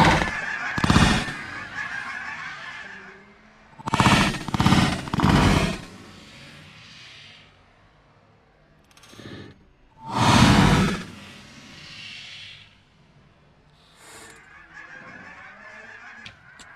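Canada geese honk loudly during a goose hunt over decoys, several bursts of calls close by with quieter stretches between them and no talk.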